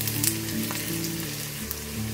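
Onions frying for a pepper breadfruit stir-fry hiss in a steady, close sizzle, with a few louder crackles and stirring scrapes over the constant bubbling oil.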